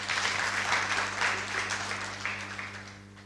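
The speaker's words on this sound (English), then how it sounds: "Hand clap for President Ruto." An audience at a business masterclass claps for President Ruto, a brief burst of many hands that gradually fades.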